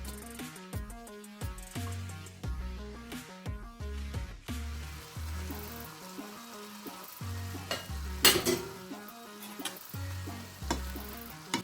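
Broccoli stir-frying in a covered pan for a quick cream broccoli sauce gives a steady, close sizzling hiss that runs throughout, partly masked by louder rhythmic background music with a deep bass line.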